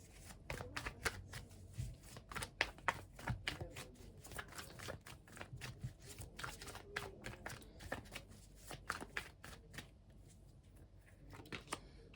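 Tarot cards are drawn and shuffled, making a quiet run of crisp, rapid flicks and soft slaps close by, with no talking.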